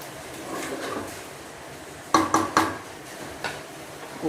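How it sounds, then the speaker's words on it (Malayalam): A pressure cooker lid is set and clamped shut on a pot of simple potato curry, giving a few sharp metallic clacks close by in a quiet kitchen, with faint clatter before. "കുക്കർ അടച്ചിട്ട്"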